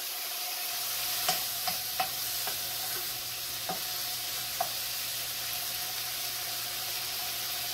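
Pancetta browns in a pan for keto carbonara, giving a steady, even sizzle with a few light clicks from a wooden spoon stirring near the start.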